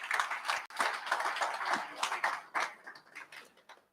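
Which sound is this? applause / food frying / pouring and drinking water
applause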